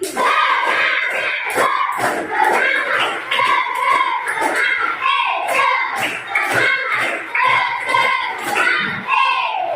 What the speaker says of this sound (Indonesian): Tepuk semangat 1 kali. Tepuk semangat 2 kali. Tepuk semangat 3 kali.